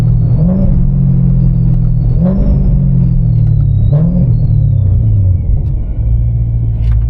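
A supercharged BMW S65 V8 in a 1M clone rumbles deeply with rising supercharger whine, surging through three repeated throttle pulls before settling into a steady cruise, loud and close.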